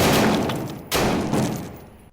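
A PKM light machine gun fires at a door in Tactical Assault VR, two heavy thudding bursts about a second apart, each decaying into a fading echo, loud and close with no talk.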